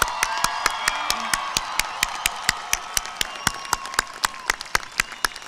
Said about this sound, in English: One large round of applause for our incredible graduates.